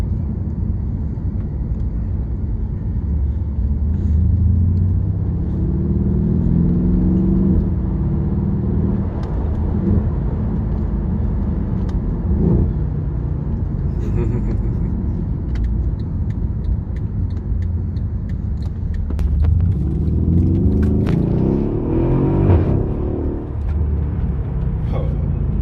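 Mercedes CLS 63 AMG engine and exhaust rumbling steadily at close range, with deep low drone and a couple of revving swells, one near the middle and a stronger one toward the end, under faint background noise.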